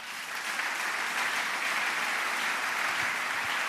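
A church congregation at a French-language worship service applauds together in a dense, sustained wash of clapping that swells and holds steady for several seconds.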